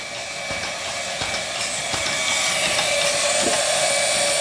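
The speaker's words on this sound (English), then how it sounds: "I'm playing around with it right now, running it on steam." A small steam engine runs on a flash steam generator with some steam leaks, giving a steady, loud hiss with faint mechanical ticking and clicks throughout.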